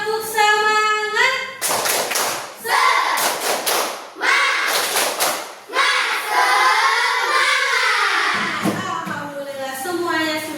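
Classroom of students doing a rhythmic spirit clap, several bursts of unison clapping in a patterned beat alternating with chanted voices, loud and close.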